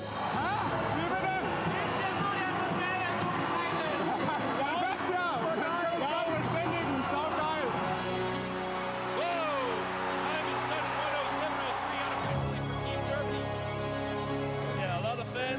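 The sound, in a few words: crowd cheering at timbersports competition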